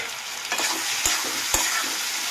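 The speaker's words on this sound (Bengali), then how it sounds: "তো ঢাকাটা খুলে একবার কষিয়ে নেব।" Curry being sautéed and stirred in an uncovered pan, a steady sizzle with sharp scrapes of the spatula against the pan at regular intervals, close and clear with no talking.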